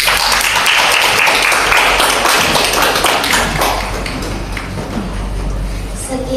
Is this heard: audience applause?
yes